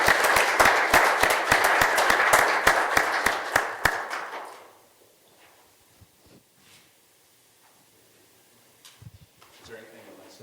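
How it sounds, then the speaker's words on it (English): A burst of applause from a crowd at a township trustees meeting, dense clapping for about four seconds before fading into quiet room noise and faint movement. "We could have a round of applause."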